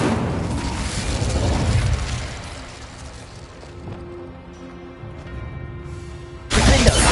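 Fire spell cast in the Hogwarts Legacy video game, heard as a loud whooshing burst that fades into a low rumble with steady tones, followed by another sharp blast near the end.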